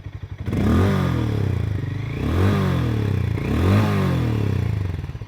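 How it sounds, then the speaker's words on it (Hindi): Hero Mavrick 440 motorcycle exhaust held at medium revs, a steady, close, loud throb whose pitch swells and dips slightly in a few gentle rev waves, with no talking. "This is how the exhaust sounds at idle. This is at medium revs."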